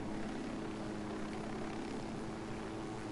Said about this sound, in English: So you can't jump out of a helicopter.